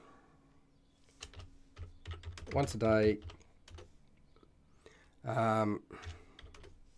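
Computer keyboard typing runs as scattered clicks through the clip during a live tabletop role-playing character creation session for Mork Borg, with someone speaking briefly over it at moderate level.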